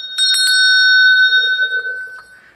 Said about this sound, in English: This is a really nice brass bell.